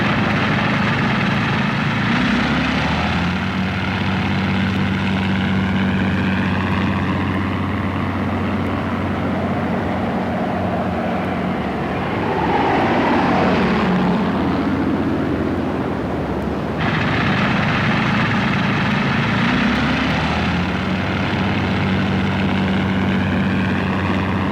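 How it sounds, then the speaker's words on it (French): Loud, continuous drone of an early seaplane's engine on a 1916-era aircraft fitted with wheels and floats, used for deck trials, with the pitch rising and falling as it passes close by. "l'hydravion à roues et à flotteur est utilisé pour les essais de mise au point d'un pont"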